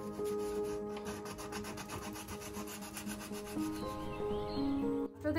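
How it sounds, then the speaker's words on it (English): A bendable abrasive is worked by hand over carved wood details on a farmhouse-style sideboard drawer, making a steady rhythmic rubbing and scratching that runs close and continuous with no talk. "using my bendable abrasive to sand the carved wood details"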